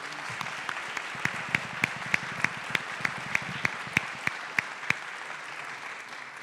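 Applause from the audience at a public environmental forum in Mexico City, a soft wash of clapping with a few sharp, louder claps standing out near the microphone in a steady rhythm.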